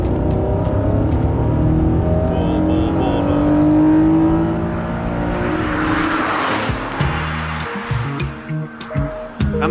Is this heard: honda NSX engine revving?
yes